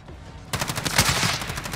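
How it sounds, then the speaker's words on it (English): Rapid automatic gunfire in the Warzone video game, a dense burst of shots starting abruptly and continuing close and loud until the end. "I'm getting shot."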